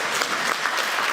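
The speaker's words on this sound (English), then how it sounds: "Let's give a round of applause for that," Crowd applause at a public safety community meeting, a dense, continuous patter of many hands at moderate distance, brief and unbroken.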